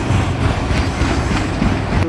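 A big freight train rumbles past close by, with a loud continuous roar and steady clickety-clack of wheels on rails throughout.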